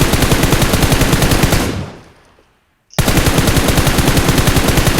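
Automatic gunfire in the mobile shooter game PUBG Mobile, loud, rapid bursts filling the first two seconds, fading to silence, then resuming as a dense continuous machine-gun volley.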